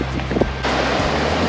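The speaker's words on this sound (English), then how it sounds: "Few little wind waves out there" Small wind waves wash against the shore of brown, tea-colored water at a campground, a close, broad rushing surge blended with gusty wind buffeting the microphone, with no voices.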